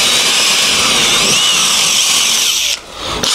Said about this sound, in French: je vais juste faire un trou avec mon scie cloche